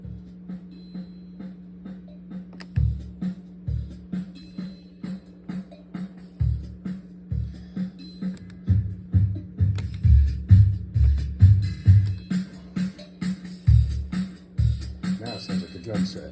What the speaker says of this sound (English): Now it sounds like a drum set.